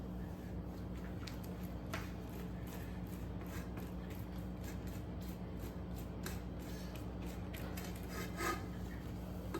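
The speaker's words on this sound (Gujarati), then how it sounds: "હા, આપણે આ રીતે હાથ વડે પાના ઉપર બેટર લગાવીશું." Hands spread batter onto colocasia leaves for Gujarati patra, making a soft, continuous close-up rubbing and smearing with occasional wet squishes and no speech.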